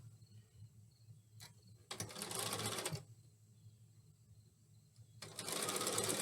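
A sewing machine stitches the right side of a quilt triangle in two loud, steady bursts of rapid mechanical whirring, separated by a quieter pause.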